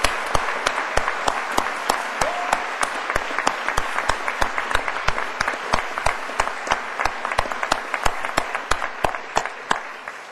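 Steady applause from a crowd at a graduation ceremony, many hands clapping continuously for several seconds without any talking.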